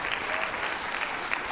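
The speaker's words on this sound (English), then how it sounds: "Let's give him another round of applause." Steady, dense clapping from a seated audience at a school board meeting, a continuous round of applause with no pauses.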